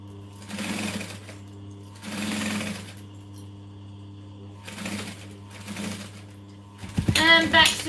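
A sewing machine stitches a seam on a business bag in four short bursts separated by pauses, close and steady with a low motor hum, ending in a brief rattling clatter.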